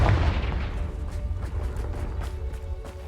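Confringo fire-spell blast in Hogwarts Legacy, opening with a loud, deep boom that rumbles away into a low roar, with a few sharp crackling hits scattered through the decay.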